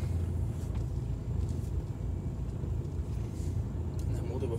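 Cars pass close by on a city road in Liverpool, a steady low rumble of engines and tyres swelling and fading along the driver's side while someone talks over it.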